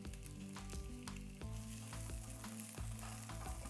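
Vegetables sizzle in hot oil with Mexican dried oregano and whole cumin, a loud steady fry punctuated by several scraping stirs of a utensil through the pan, with no talking.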